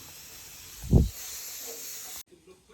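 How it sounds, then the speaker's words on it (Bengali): Pressure cooker with mutton inside releasing steam in a home kitchen, one short forceful hiss burst followed by a quieter steady hiss that cuts off abruptly. "আমাদের মটন রেডি এখন বর্তমান প্রেশার কুকারে দিয়ে দিলাম এখন অল্প সফট হবে"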